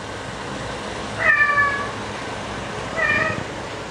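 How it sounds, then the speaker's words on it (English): A male cat meows twice, each call a clear, drawn-out cry about two seconds apart, close and fairly loud over a quiet room hum with no talking. "I have a fucking cat that makes so fucking much noise"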